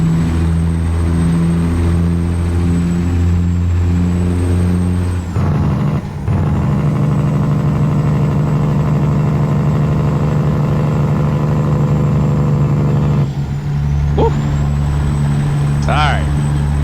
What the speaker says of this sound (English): I don't know who created this engine sound